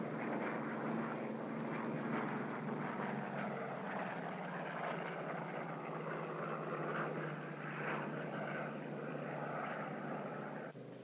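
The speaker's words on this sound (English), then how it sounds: "The helldiver does all the usual acrobatic maneuvers." Curtiss Helldiver dive bomber flying aerobatic loops, rolls and Immelmann turns, its piston engine and propeller giving a steady, loud drone with a slowly shifting pitch throughout.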